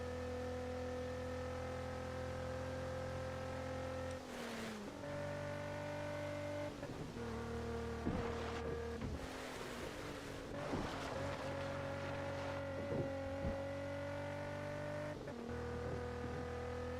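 A car engine in the racing video game Test Drive Unlimited 2 holds a steady drone, its pitch climbing and falling with each gear shift, with loud rough scraping bursts midway, alone and continuous.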